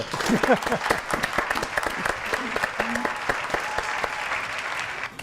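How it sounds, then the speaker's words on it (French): TV studio audience applauding a guest, a burst of clapping and a few cheers that stays steady for several seconds before fading, with a voice briefly heard near the start. "Standing ovation"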